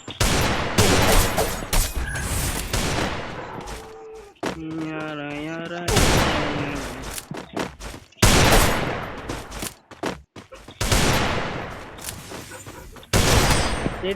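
Gunfire in a mobile shooting game match, with loud repeated bursts and single shots in quick clusters, separated by short gaps and a brief musical tone interlude.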